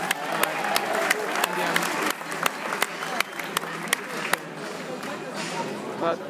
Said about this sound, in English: Give her another round of applause with you.